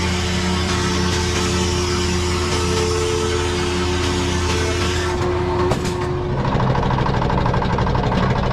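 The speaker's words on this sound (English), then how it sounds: "This lumber saw has been marked by time, with peeling paint and an old diesel engine that still roars with power." An old diesel engine powering a lumber saw runs with a loud, continuous low rumble and knocking drone throughout, shifting slightly in tone near the end.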